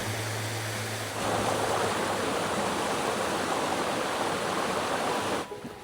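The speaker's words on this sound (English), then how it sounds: "this is the waterfall." A mountain waterfall on a fell path in the Lake District, a steady loud broadband rush of falling water heard up close, swelling louder after the first second and cutting back near the end, with no talk.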